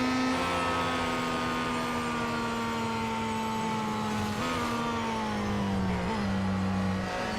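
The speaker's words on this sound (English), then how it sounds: "I do need to be careful about not overheating the engine, so I will slow this car down shortly." Engine of a Peugeot 9X8 race car in Real Racing 3, a steady loud drone with gently falling pitch as the car slows, heard alone without talk.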